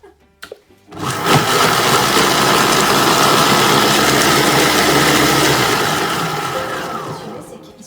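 Thermomix and Monsieur Cuisine Connect food processors whirring together at high speed, a loud, steady motor roar that starts abruptly after a few clicks and holds for several seconds before tapering slightly.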